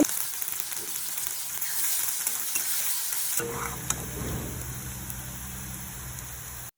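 Onions frying in a pan for biryani beresta, a steady close crackling sizzle with occasional stirring, shifting to a softer, quieter fry partway through, no voices.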